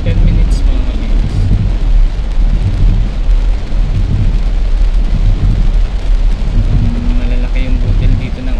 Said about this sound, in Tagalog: Malalaki yung butil dito ng ulan